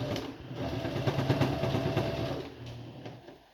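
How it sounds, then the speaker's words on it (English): A sewing machine stitches pajama bottoms with a back stitch, whirring steadily and close for about two and a half seconds before it slows and fades out. "So I'm going to just start back and then go back stitch, keep going. And then I'm going to sew over till it meets where we had an opening last time."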